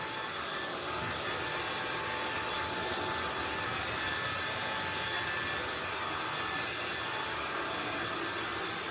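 An INSE V120 cordless vacuum cleaner runs over metal grates with a steady, close motor whoosh, broad and even throughout, with no whine and no talk.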